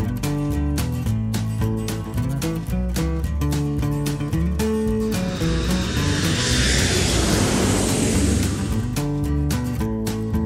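A pink toy airplane gives off a rushing engine whoosh that swells loudly in the middle and fades again, heard over a bright, steady electronic melody.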